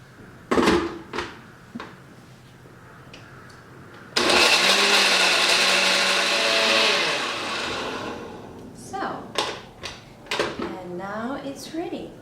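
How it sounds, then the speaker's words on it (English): A kitchen blender whirs loudly for about four seconds as it blends a smoothie, set between clattering handling noises and bursts of speech before and after. "You just blend it and prepare a smoothie."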